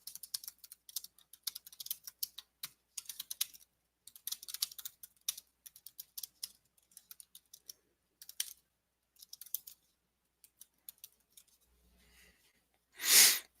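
Sparse, quiet keyboard typing with irregular bursts of keystroke clicks spread over several seconds, ending in a short louder rustle or thump.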